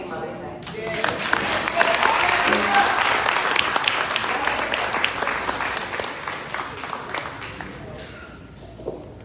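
An audience applauds at a Mother's Day performance, sustained dense clapping that rises, holds strong, then tapers away, with faint voices and a few cheers underneath.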